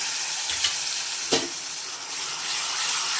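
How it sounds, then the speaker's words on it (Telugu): Ginger garlic paste frying with onions in a hot pan for a Rayalaseema country chicken curry, a continuous loud sizzle with a couple of soft stirring knocks. "ఇప్పుడు అల్లం వెల్లుల్లి పేస్ట్ బాగా పచ్చి వాసన పోయేంత వరకు వేయించుకున్నాం"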